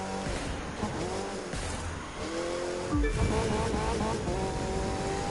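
A race car engine in The Crew 2 racing game revs and whines through a tight hairpin turn, its pitch shifting as it slows and accelerates, with a brief deeper surge partway through.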